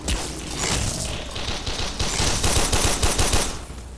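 Weapons firing in the video game Warframe, a sustained, loud stream of rapid gunfire bursts with steady rhythmic shots that fades slightly at the end.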